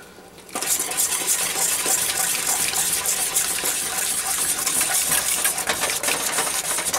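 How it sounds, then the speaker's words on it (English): After a short quiet start, heavy cream pours into a pot of shrimp bisque with a steady, close, gushing liquid splash that runs unbroken for several seconds. "Gonna add the cream, and that's it"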